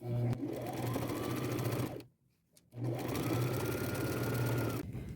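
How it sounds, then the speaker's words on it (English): A sewing machine runs a straight stitch around the edge of an upcycled tuxedo jacket made from a flannel shirt and old quilt, a steady loud mechanical whir that halts briefly for about half a second before resuming. "I'll stop at the other side of the gap. And I'm using a straight stitch."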